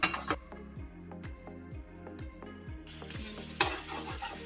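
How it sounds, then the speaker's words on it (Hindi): Cream is stirred into chicken masala in a pan, giving a rhythmic series of scraping strokes over a soft sizzle, with a couple of sharper clinks of the utensil against the pan. "अब मैं इसको अच्छे से मिक्स कर लूँगी।"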